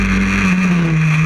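A historic Formula Ford race car at Croft's Nostalgia Festival holds a steady, loud engine drone with a sustained whining tone, running continuously without passing by or changing pitch much.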